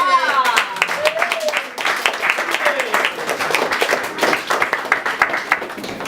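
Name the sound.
audience applause for a poet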